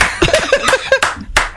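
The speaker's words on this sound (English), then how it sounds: "The slow clap comes out" Slow, deliberate hand claps, about five or six evenly spaced sharp smacks close by, with people laughing and chattering between them.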